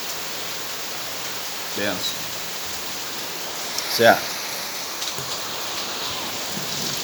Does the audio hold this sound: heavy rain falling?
yes